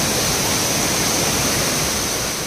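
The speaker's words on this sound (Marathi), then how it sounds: "आणि या साईडने बघा ना कसं संत गतीने धावतंय पाणी" Water rushes at the top of Savdav waterfall in Kankavli, Konkan, a loud, constant roar of broadband noise that holds steady and close throughout, with no voices.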